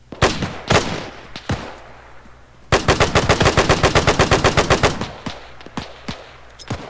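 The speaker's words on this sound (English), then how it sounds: "There's an MG." Machine gun fire in ArmA 3 combat: several scattered loud shots, then a sustained rapid burst of about two seconds, followed by more single shots and echoing reports, with no talk over it.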